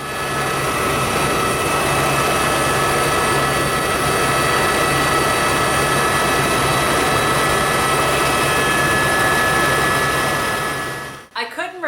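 A helicopter lifts off for a sightseeing tour over London, its rotor and engine making a loud, steady, close roar that holds for about eleven seconds before cutting off abruptly.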